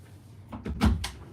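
Bedroom door being opened, a short burst of close knocks and a latch clunk followed by a soft thud, fairly quiet, with no talking.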